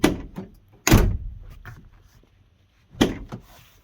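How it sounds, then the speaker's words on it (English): An HQ race car's door is worked at close range: a sharp clunk, a heavier thud about a second later, then another clunk near the end, with quiet gaps and no talking. "I can now open the door"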